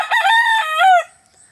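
A single rooster crows once, loud and close, a clear rising-and-falling cock-a-doodle-doo that cuts off after about a second, with no talk over it.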